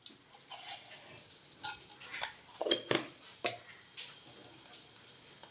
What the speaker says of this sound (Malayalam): നമുക്കൊരു പാത്രം വെച്ച് കടുക് ഇട്ട് കൊടുത്തിട്ടുണ്ട് അതിലേക്ക് നമുക്ക് ശകല ഉലുവ ഇട്ട് കൊടുക്കാം